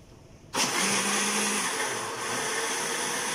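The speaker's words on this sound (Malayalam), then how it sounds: "ഇനി ഇത് നമുക്ക് ബ്ലെൻഡ് ചെയ്തെടുക്കാം" An electric blender whirs loudly and steadily as it blends a tender coconut pudding mixture, starting abruptly and running continuously alone.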